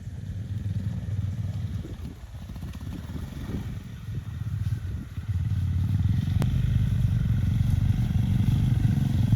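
A Honda NX500 adventure motorcycle ridden on an off-road patch near Dandeli, its engine droning steadily and close with rough clattering from the terrain, growing louder and steadier in the second half.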